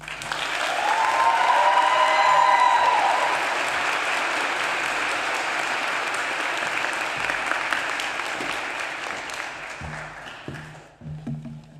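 Sustained applause from a commencement audience welcoming a speaker to the stage, dense clapping with a few whoops near the start, gradually thinning and fading out by the end.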